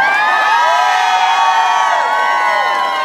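A concert crowd in Atlantic City cheering and whooping loudly and continuously, a dense wall of shouts and screams that fills the space.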